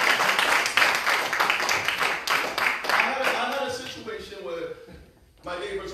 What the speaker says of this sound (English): Give Big a round of applause for that.